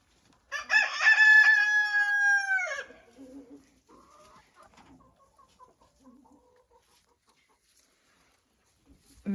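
A rooster crows loudly once, a long strained call, followed by softer scattered clucks from hens in a poultry yard.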